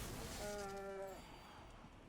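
A cow moos once from the Holy Cow card in Magic: The Gathering, a clear, moderately close low call lasting under a second over quiet game background.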